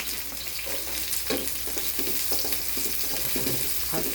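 Garlic sautéing in a pan as Bicol Express is cooked, a steady close sizzle with soft stirring scrapes and no talking.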